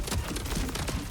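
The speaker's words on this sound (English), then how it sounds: "And we're just going to start shooting." Rapid automatic gunfire from Borderlands 4 rattles in a dense, continuous burst of loud, close shots with no talking.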